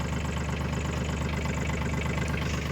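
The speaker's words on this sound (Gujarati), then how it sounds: "તો ચાલો આપણે ટ્રેક્ટર ચાલુ કરી અને તમને બતાવીએ" A farm tractor engine idles steadily at close range, a low, even diesel chug with a fast repeating knock that holds level throughout, with no talking over it.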